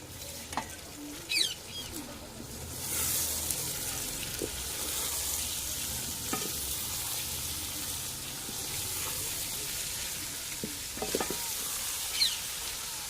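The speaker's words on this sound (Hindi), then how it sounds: "इसको अच्छी तरह पहले भून लेंगे, ब्राउन करेंगे" A kilo of shredded cabbage fries and browns in a pan, a loud, steady close sizzle running throughout with a few sharp spoon scrapes and knocks against the pan.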